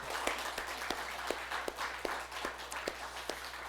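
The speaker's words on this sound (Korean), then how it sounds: "우리 큰 박수로 영광 올려드리시기 바랍니다" A church congregation gives a big round of applause, a dense, steady wash of many hands clapping close and loud, with a few sharper claps standing out over a low hum.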